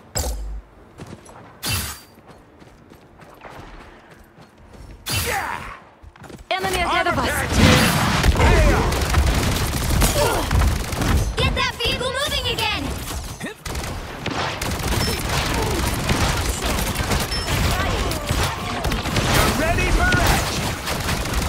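Rocket launches and explosions in Marvel Rivals: booms and bursts of rapid fire, then continuous dense blasts and game effects, with voices talking over much of it.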